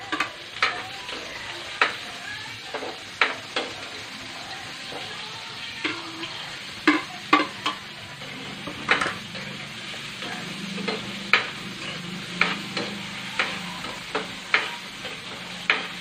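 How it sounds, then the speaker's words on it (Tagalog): Onion, tomato and sliced hot dog sizzle and fry in a pan, with a steady crackle broken by regular sharp clicks of a utensil stirring against the pan, close and alone. "You stir until it's fried."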